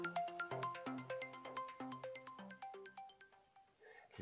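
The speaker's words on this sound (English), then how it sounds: "It's now fading out." An audio clip playing in Ableton while a fade-out is applied: a bright, ringtone-like melodic sequence of plucked tones in a steady rhythm that gradually drops in level toward the end.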